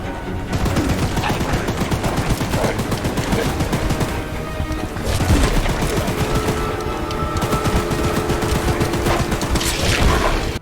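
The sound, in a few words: machine gun firing in video game Choo Choo Charles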